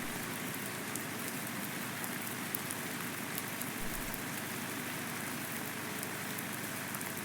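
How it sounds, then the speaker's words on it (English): Rain falls in Farming Simulator 19, an even, dense patter of drops on surfaces that stays constant and moderately loud for the whole stretch, with no voices. "According to this rain is going to go on."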